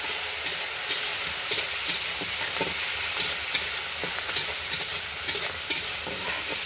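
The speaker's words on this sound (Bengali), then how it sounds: "বিনসটা দিয়ে একটু নাড়াচাড়া করে নেব হালকা" Green beans being stirred and fried in a pan: a steady hissing sizzle throughout, with light scraping stirs repeating close by at an easy pace.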